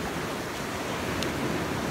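Broadband ocean surf rolls steadily along a California coast, a constant wash of breaking waves with no clear gaps, fairly loud and close throughout.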